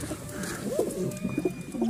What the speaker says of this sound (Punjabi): ਆਹ ਕੁਛ ਨਵੇਂ ਕਬੂਤਰ ਆਏ ਆ